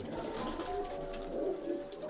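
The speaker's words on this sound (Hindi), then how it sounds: "ये इलाहाबादी कबूतर है" Allahabadi pigeons, an old breed, coo in soft repeated low calls at close range, alone with no talk over them.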